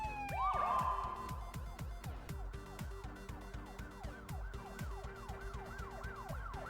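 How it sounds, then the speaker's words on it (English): Several police sirens wail together with overlapping rising and falling tones, loud and close, running continuously throughout. "You hear like a couple of police sirens."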